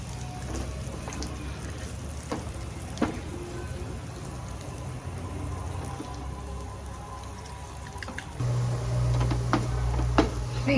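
Oil trickles into wheat flour and sugar for halva, making a soft, crackly patter like light rain, with stirring scrapes and clinks. A low steady hum grows louder near the end, and no one speaks.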